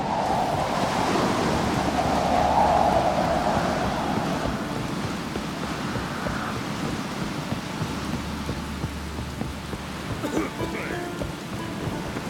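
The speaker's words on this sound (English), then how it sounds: "It's raining." Steady rain pours in a video game, The Witcher 3: Wild Hunt, a continuous broadband hiss with low rumbling beneath, loud and unbroken throughout, with no talk over it.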